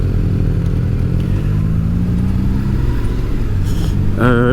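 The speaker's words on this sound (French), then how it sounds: "c'est le bruit de l'échappement." A Honda Forza scooter's stock exhaust rumbles steadily up close, a low throaty engine drone with a brief higher whine near the end.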